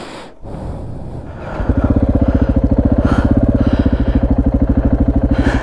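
A KTM 690 Enduro motorcycle engine in Namibia cranks briefly, then catches and settles into a loud, steady, rapidly pulsing idle heard up close.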